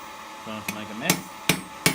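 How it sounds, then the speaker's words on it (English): A hammer strikes a chisel held in a vise during hot cutting of metal on a beginner blacksmith wall hook project, four sharp ringing metallic blows at a steady pace, close and loud. "Don't have anything great to do the hot cutting with, so I'm just using this chisel in the vise."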